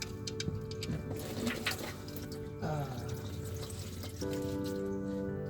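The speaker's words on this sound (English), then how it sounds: "That will allow this to drain for a few minutes until there's a slight trickle or nothing coming out" Engine oil pours from a Nissan Pathfinder's drain into a catch pan, a steady liquid stream splashing and dribbling continuously and close by, shifting in tone partway through.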